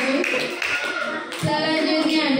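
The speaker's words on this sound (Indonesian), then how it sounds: "Beri tepuk tangan untuk kelompok kinestetik yang sudah maju." Schoolchildren in a classroom clap for a classmates' presentation group, a busy patter of hands mixed with children's voices chattering close by.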